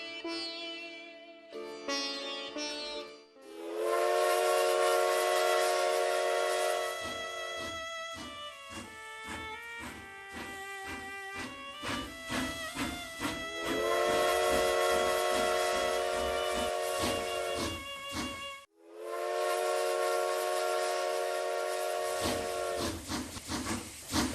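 A steam train hisses and blows a loud sustained steam whistle, repeated in several long blasts broken by choppy stretches of clattering and hissing, with abrupt cuts between sections.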